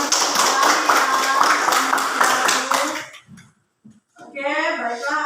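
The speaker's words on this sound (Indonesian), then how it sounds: "Ayo tepuk tangan buat teman kita Sri yang sudah mau." A class of young children claps together for a classmate, a dense burst of rhythmic claps lasting about three seconds, then a brief pause before children's voices start up.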